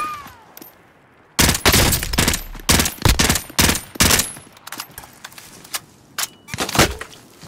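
Video game gunfire in a multiplayer shooter, loud rapid bursts of automatic shots and scattered single cracks, close and dense for several seconds.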